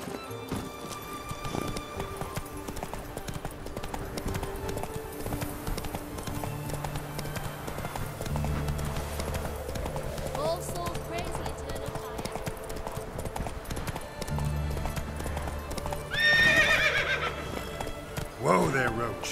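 A horse's hooves clip-clop at a steady run in The Witcher 3, with a whinny near the end over game music, and in-game voices talk throughout.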